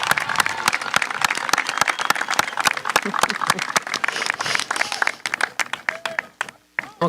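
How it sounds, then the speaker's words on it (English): A graduation ceremony audience at Pinckney High School applauds steadily: dense, sustained clapping from a large crowd that fills the whole stretch and thins slightly near the end. "let's give them a round of applause"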